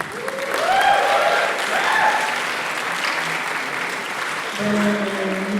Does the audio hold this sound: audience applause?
yes